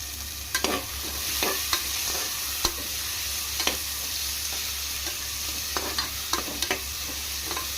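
Onions and green chillies stir-frying in a pan for hotel-style veg kurma: a steady close sizzle runs throughout, broken by repeated scraping clicks of a spatula stirring at an irregular pace, with no talking.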